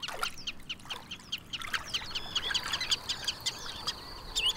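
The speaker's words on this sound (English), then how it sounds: "As the sun goes down, the ruffs squabble and the other water birds scrape a meal together." Ruffs and other water birds squabbling at sunset in a Dutch delta wetland, a busy scatter of sharp chirps, calls and squeaks from several birds, moderately near over a soft ambient hiss.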